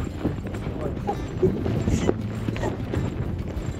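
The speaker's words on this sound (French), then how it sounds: "C'est du galop ça." A horse gallops outdoors on an Australian cattle station, its hoofbeats thudding irregularly amid wind buffeting the microphone, while a rider speaks over the movement.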